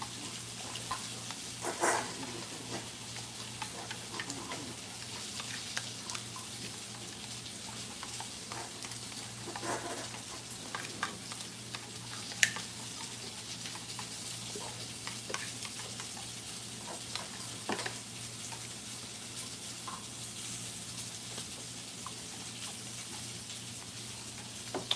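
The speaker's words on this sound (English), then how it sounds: "Stir that in real good." Chili powder stirred into a sizzling pan, giving a low continuous sizzle broken by intermittent spoon scrapes and taps. The sound is close but fairly quiet and carries no speech.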